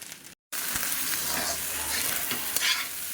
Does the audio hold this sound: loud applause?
no